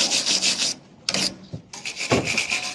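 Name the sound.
scrubbing a metal part to prevent rust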